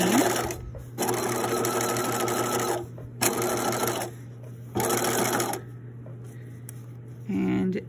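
A sewing machine stitches a centered zipper in several loud, close bursts of rapid whirring, broken by short pauses, with a steady hum underneath.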